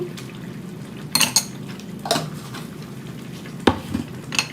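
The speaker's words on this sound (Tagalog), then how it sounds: "So i-mix natin para mag-absorb yung spices sa niluto natin." A spoon clinks and scrapes against a pan while eggplant and chickpeas with spices are mixed, a few sharp metallic knocks over a faint low sizzle, close and otherwise quiet.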